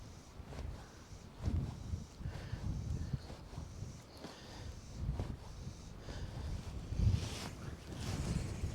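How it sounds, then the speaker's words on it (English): Wind gusts outdoors beside shallow trout water on an opening day of trout fishing, a steady low rumbling buffet with swelling gusts and microphone wind noise throughout, no speech. "the wind's been a bit awkward"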